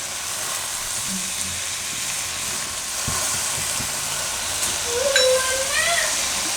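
Fenugreek leaves fry in a pan for Gujarati methi ringna shaak, giving a steady, loud, hissing sizzle throughout, with a few clanks from stirring and a soft whistle-like tone near the end.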